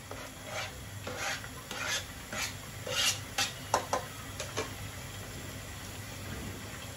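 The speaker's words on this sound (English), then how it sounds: "Turn the stove back up and stir it so that my onions and garlic could fry for a little bit" Onions, garlic and peppers sizzle softly in a pan on the stove while a spoon scrapes and stirs them in irregular strokes, fairly close and quiet.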